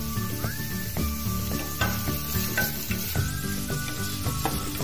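Beans and other vegetables stir-fry with a little salt in a pan for a homemade chicken soup, giving a loud, continuous sizzle broken by repeated stirring scrapes.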